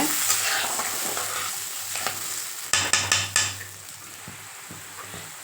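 A thick pepper curry (milagu kuzhambu) bubbles and sizzles in a pan while a spoon scrapes and stirs, with a short burst of clattering strokes partway through.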